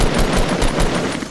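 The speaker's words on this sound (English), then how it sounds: "Shooting at me." Rapid automatic gunfire from the video game Fortnite rattles out in a loud, continuous burst of closely spaced shots.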